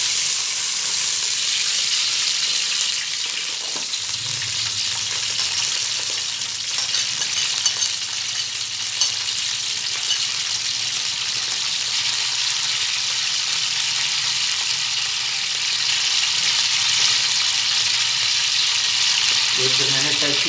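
Ghee sizzles and crackles steadily in a hot pan as green pulao is started, a loud continuous frying hiss with occasional stirring sounds throughout.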